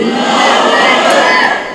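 A large crowd at a Muharram religious gathering roars the Nara-e-Takbir slogan in unison. It is a loud, dense mass shout that fills the whole short moment.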